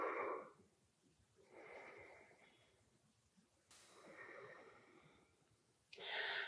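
Slow, deep breathing during a yoga session: long airy inhales and exhales alternate in separate waves with quiet pauses between them, close to the listener and without speech.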